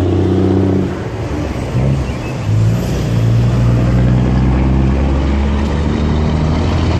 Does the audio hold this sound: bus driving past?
yes